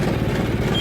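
A John Deere E model tractor engine runs just after starting, a steady low diesel rumble close by with no talk.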